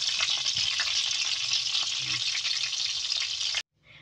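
Kwek kwek, battered eggs, fry in a pan with a loud, dense, continuous sizzle. It runs steady and close, then cuts off abruptly near the end, with no talking.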